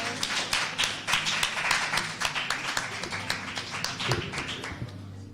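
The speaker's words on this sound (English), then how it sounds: "Another round of applause, please." Audience clapping at a live spoken-word and performance event, a scattered, sharp patter of hands that swells and thins over several seconds in a room, with no talk over it.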